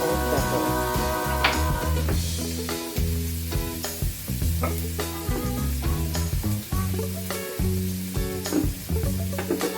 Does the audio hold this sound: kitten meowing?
no